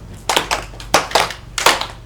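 A classroom doing a rhythmic 'tepuk semangat' clapping chant, sharp group claps in short grouped bursts of two and three, loud and close.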